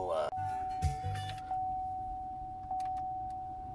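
A blower fan in a 2012 Chevrolet Impala whirs to life inside the cabin, settling into a steady hum with a couple of soft clicks as it runs.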